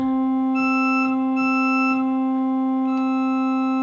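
A steady pipe organ chord sounds as tierce stop tones switch on and off in short stretches, adding a brighter, reedier color above the held notes.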